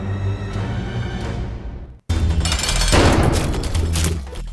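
Bomb blasts in The Binding of Isaac: one booming explosion decays into a short silence, then a second, louder blast rumbles and crackles on to the end.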